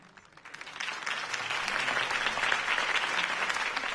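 Sustained applause from a large crowd in The Batman Telltale Series game, steady and dense clapping that swells in the first second and holds loud throughout.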